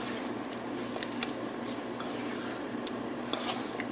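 Raw shrimp are stirred with fajita seasoning mix in a bowl: soft, close scraping and clinking of a utensil against the dish, with a few brighter taps among the continuous quiet mixing.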